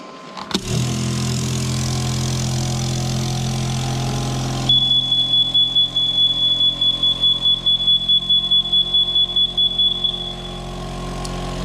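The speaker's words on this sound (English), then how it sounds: "So I'm just simply now just going to switch the machine on. When I switch it on, it will make a few noises" A Clad Boy CB3 vertical wall panel lifter switches on with a thump, then a steady motor hum settles in, joined after a few seconds by a high, pulsing electronic beep that repeats rapidly before stopping.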